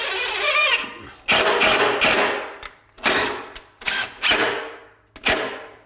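A power drill drives 1-1/8 inch screws through two laminated pieces of particle board for a custom closet, in several loud whirring bursts of about a second each, separated by short pauses.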